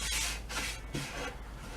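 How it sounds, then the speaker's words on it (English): Soft rhythmic rasping strokes of sandpaper glued to a wooden block, a few back-and-forth passes, close and quiet. "I've got some sandpaper here on a wooden block that I glued down."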